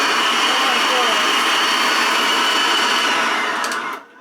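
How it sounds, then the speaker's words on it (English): A faulty returned vacuum cleaner from a John Lewis pallet runs with a loud, harsh, steady roar up close, then cuts out abruptly near the end. "something's gone very wrong with this vacuum cleaner."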